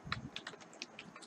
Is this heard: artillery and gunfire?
no